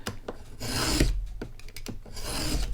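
A knife cutting through foam board, with a rough rasping drag in a few uneven strokes and short pauses between them, close and fairly loud, with no voices.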